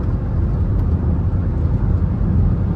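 Inside a 2006 Volvo XC70 wagon on the move, a steady low rumble of engine and road noise fills the cabin evenly, close and fairly loud, with no talking.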